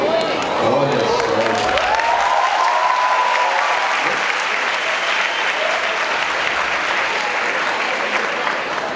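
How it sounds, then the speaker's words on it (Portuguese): An audience in a university lecture theatre claps steadily and loudly for several seconds, a dense continuous applause with a few voices calling out over it. "Não gasta as palmas ainda não"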